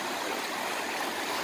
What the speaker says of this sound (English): lot more water coming down the creek